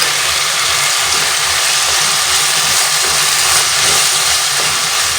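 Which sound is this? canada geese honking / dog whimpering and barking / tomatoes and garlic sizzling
tomatoes and garlic sizzling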